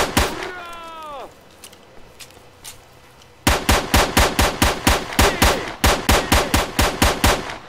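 Automatic gunfire in the shooter game S.T.A.L.K.E.R.: Shadow of Chernobyl, loud rapid bursts of sharp evenly spaced shots filling the second half, after a descending electronic tone and quieter scattered pops.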